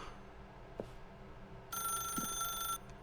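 A telephone rings in the video game The Stanley Parable: one bright, steady electronic ring lasting about a second, standing out clearly over a quiet ambient background.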